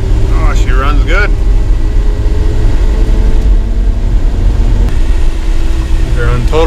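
A farm truck with a 4.3L Vortec V6 and high mileage runs steadily with a continuous low engine drone, close and loud, while people talk over it.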